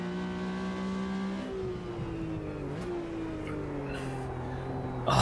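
A Porsche RSR racing engine in the video game Automobilista 2 drones and shifts pitch, easing off then climbing again, with a brief burst of revs at the end.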